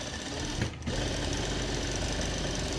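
Sewing machine stitching a garment seam, a steady close whirring drone with a short pause near the start, no voices.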